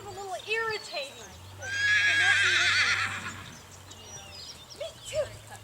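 A horse at a riding clinic lesson gives a long, loud, quavering whinny close by, with snorts and short vocal bursts around it and a person talking in the background.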